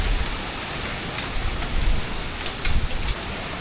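Typhoon Opong batters an island with roaring wind and heavy rain, a dense continuous hiss swelling in gusts, close and loud, with no voices.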